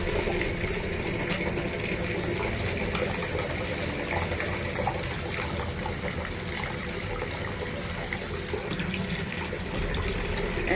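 Hot bath water gushing from a tap into a tub where a glittery bubble bar is foaming, a loud, steady, unbroken rush that holds at the same level throughout.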